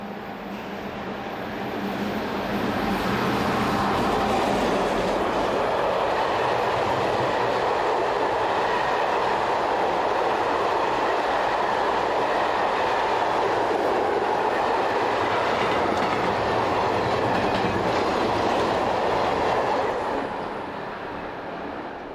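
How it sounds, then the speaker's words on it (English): A train hauled by an electric locomotive rumbles past close by, swelling to a steady roar with rail clatter, then fading away. "It took a further 10 minutes before the next train passed"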